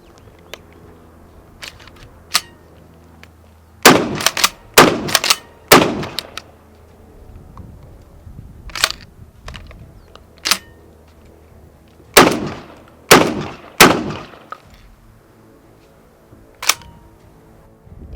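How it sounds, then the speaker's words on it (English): A pump action shotgun that switches to semi auto fires in two groups of about four sharp, loud reports each, with scattered clicks and handling knocks between the shots and no speech. "I'm going to go from 3 rounds pump action and then change it to semi"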